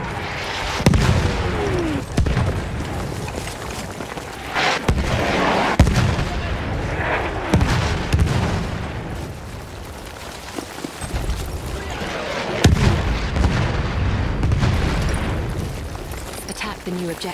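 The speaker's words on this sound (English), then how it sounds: "Wait for the enemy artillery barrage to stop firing." Enemy artillery barrage in the video game Battlefield 1, with repeated heavy booms and blasts rolling over a dense rumbling battle din for many seconds, loud and continuous.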